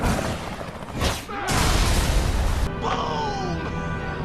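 Loud, dense explosions from the Resident Evil 5 video game roar almost continuously, with a sudden burst of heavy rumbling blasts and debris, then a slightly quieter fiery tail.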